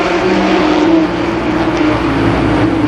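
Mini stock cars racing at Columbus Motor Speedway during an eight-lap heat, with a loud, continuous engine roar and a droning, slightly shifting pitch as the pack runs close by, and no talking.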